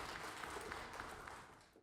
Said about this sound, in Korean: 큰 박수를 하나님께 드리겠습니다.